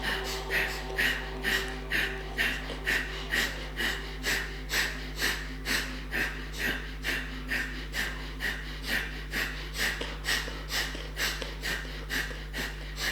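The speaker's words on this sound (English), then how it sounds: "Continue briskly breathing in and out." Brisk, rapid yoga breathing, with forceful in-and-out breaths repeating at a steady quick rhythm, close and clear over a constant low hum.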